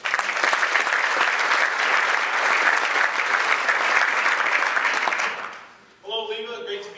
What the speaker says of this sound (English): A round of applause, if you would, for Todd Watson.